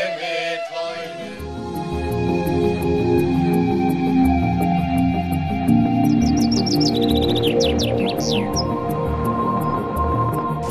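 Birds chirp and trill in the Rhodope mountains beside a stream, with bright repeated calls over a steady, rushing flow of water that fills the whole stretch.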